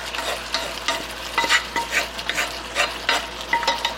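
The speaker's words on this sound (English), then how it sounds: "I'm going to add my sauce into my wok." Sauce hits pineapple chunks sautéing in a hot wok, setting off a steady sizzle broken by scraping stirs and bursts of crackling, close and fairly loud with no talking.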